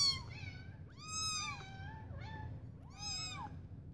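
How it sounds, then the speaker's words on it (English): Several kittens mew in high, thin cries, about four separate calls of rising and falling pitch spread evenly across the stretch, close and clear over a low background rumble. "You guys want to come see baby kitties?"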